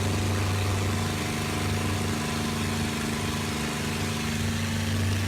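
A Rolls-Royce Merlin V12 of roughly 1200 horsepower in a P-51D Mustang fighter runs with a steady, loud, continuous drone, its deep throb holding even throughout with no talking over it.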